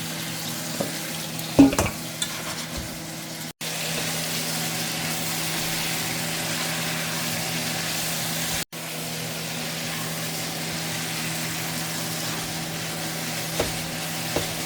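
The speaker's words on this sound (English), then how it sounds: "that's my seasoning simmering." Steady, continuous sizzling of seasoning frying in a hot pan for chicken back and ackee, with a few brief stirring clinks near the start and two short breaks in the hiss.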